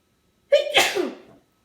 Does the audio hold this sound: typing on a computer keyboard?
no